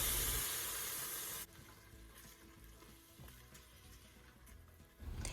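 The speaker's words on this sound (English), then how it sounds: "I also add in the tomatoes, and I stir everything up together" Garlic, bay leaves and tomatoes sizzling and being stirred in an Instant Pot, a soft steady frying hiss with faint scraping stir sounds, quiet and close.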